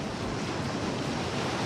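Ocean waves and surf washing steadily onto a beach at sunrise, a continuous broadband roar with a little wind noise, close and fairly loud, no voices.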